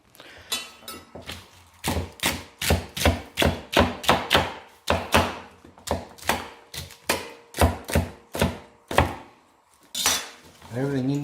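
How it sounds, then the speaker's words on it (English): A knife chops fresh parsley on a cutting board in a quick run of sharp, evenly spaced thuds, close and loud, pausing briefly partway through before resuming. "Just like this parsley, you just take off the elastic band, you can just cut it like that"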